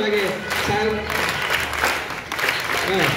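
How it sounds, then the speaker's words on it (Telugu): Applause for a teacher at a school farewell event in a high school hall, steady clapping from a gathered group throughout, with voices talking over it. "చక్కటి చప్పట్లతో శుభాభినందనలు తెలియజేస్తాం"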